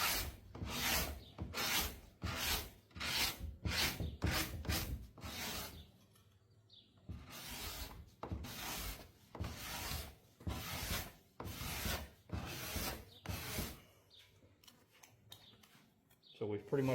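A hand-held card scraper rasps finish off a wooden surface in steady back-and-forth strokes, close and fairly loud, with a short pause midway before the scraping resumes.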